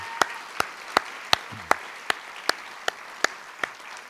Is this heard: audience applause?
yes